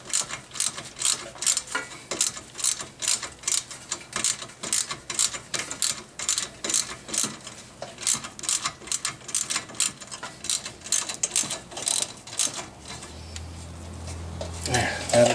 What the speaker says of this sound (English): tighten the 10mm fastener right here